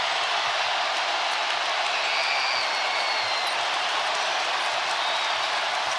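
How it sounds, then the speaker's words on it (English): Basketball arena crowd roaring during an NBA game between the Boston Celtics and Milwaukee Bucks, a steady, loud, dense wash of cheering with no pauses, sustained throughout. "And now the crowd has come alive."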